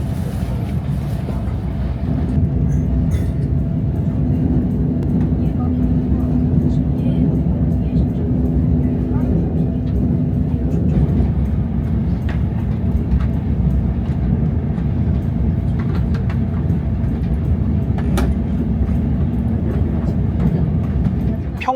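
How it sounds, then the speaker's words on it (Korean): A KTX high-speed train runs non-stop from Suwon toward Daejeon with a continuous low rumble and rolling rail noise that stay steady throughout, with faint clicks scattered over it. "수원역을 출발한 열차는 대전까지 무정차로 달리게 됩니다"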